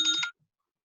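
A phone rings with one short electronic ringtone burst, then stops abruptly into silence.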